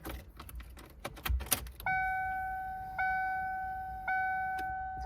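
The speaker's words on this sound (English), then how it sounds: "So first we got to put the key in the ignition." A car key jingles on its ring as it slides into the ignition and turns, followed by three evenly spaced electronic warning chimes from the dash, close and clear in a quiet cabin.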